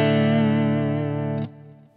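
Distorted electric guitar played through a Kemper profiler with a slightly modified cut-the-mix EQ: one loud sustained chord rings steadily, then drops abruptly to a quieter decaying tail near the end, with no talking.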